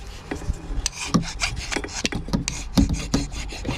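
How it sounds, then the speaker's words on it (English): Close, rough rasping strokes scrape quickly and repeatedly across the metal surface of a Honda pressure washer's lower pump as it is roughened for JB Weld, with no speech. "You want this a bright, shiny, clean spot, but you also want it roughed up a little bit."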